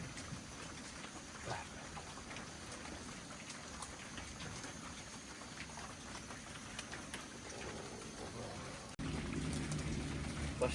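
Rain falling outdoors in a natural setting, a steady, fairly quiet patter of drops that grows somewhat louder and fuller near the end.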